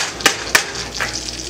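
Eggs fry in a pan as a continuous soft sizzle, broken by two sharp scraping knocks of stirring close by.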